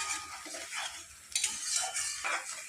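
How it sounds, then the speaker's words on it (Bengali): Ginger, onion and garlic paste fries in a pan while being stirred, with a steady close sizzle and repeated scraping of a spoon against metal, a few sharper clinks near the end. "আদা পেঁয়াজ রসুনের পেস্টে একটু হালকা ভাজা ভাজা করে নেব"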